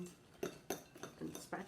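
Fork beating a small batch of s'mores muffin batter in a bowl, giving soft rhythmic clinks and taps against the bowl, faint and close.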